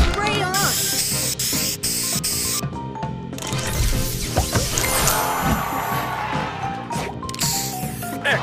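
A spray booster in the Match Masters mobile puzzle game lets out a long hissing burst amid chiming match effects and game music, with announcer voice lines heard in the mix.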